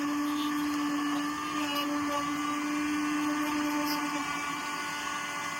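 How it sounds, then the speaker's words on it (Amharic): An electric grinding machine chopping ingredients with a little water added, a steady loud motor whine running continuously without a break, close and unaccompanied. "መፍጫ ማሽን ውስጥ ነው የምንጨምረው።"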